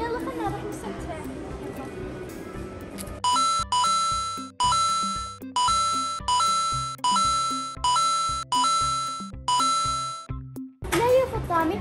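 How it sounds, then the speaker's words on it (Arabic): An emergency bell in a shopping mall rings in repeated loud ding-dong bursts, roughly eight evenly spaced chimes after a brief stretch of indoor chatter, with a voice heard at the start and end. "ما يصير نضغط الجرس الا في حالة الطوارئ"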